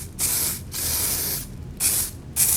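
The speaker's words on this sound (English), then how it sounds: "Give it a quick little spray." Aerosol spray fixative misted over a chalk drawing in several short hissing bursts, close and loud, with brief pauses between them.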